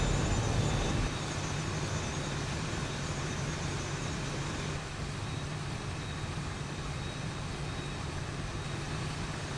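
Aircraft engines roaring at takeoff in the X-Plane 11 flight simulator, a dense broadband rumble that holds steady and loud throughout, easing slightly partway, with no voices.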